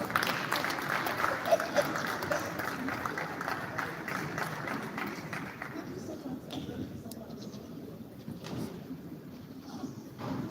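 Applause from the audience at a roundtable on African housing, a full round of clapping that thins out and fades after the first half, leaving scattered claps and room murmur with faint speech.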